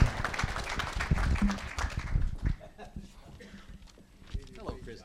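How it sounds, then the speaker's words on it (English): A round of applause in an auctioneering class: dense, busy clapping for the first half that thins out and fades, leaving a quieter room with scattered sounds and voices. "How about a round of applause for Lydia?"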